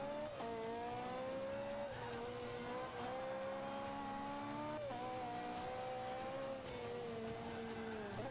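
A Mercedes race car in Forza Motorsport 5 drones along with a steady engine note that rises and dips through gear changes, sustained and fairly close, with faint tire noise under it.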